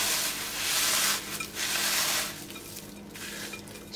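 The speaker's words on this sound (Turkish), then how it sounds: "Şimdi artık elimle bisküvileri iyice eze eze yoğuracağım." Hands knead and crush biscuits into a carrot mixture, producing soft rubbing, squishing and gritty crumbling sounds in uneven strokes, close up and fairly quiet, with no talk.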